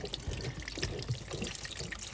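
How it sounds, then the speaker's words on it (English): Water trickles and drips out of an opened Intex spa pump during impeller replacement, a faint, close, irregular dribbling with small splashes throughout. "A little bit of water will come out, but that's fine."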